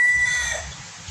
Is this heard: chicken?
yes